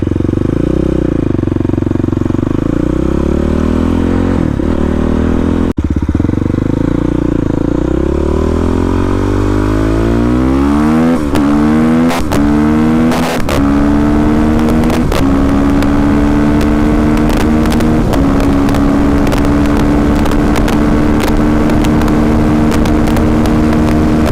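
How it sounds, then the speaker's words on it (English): A supermoto motorcycle accelerates hard through the gears to about 90 mph, engine pitch sweeping upward in repeated rising runs, loud and close with wind noise, no talk. "That was a 90-mile-an-hour rip right there."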